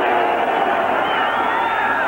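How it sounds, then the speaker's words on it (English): Noisy crowd roar at a 1986 Monday Night Football game between the Broncos and Jets, a steady, loud, dense wash of voices filling the stadium without a break. "Noisy crowd."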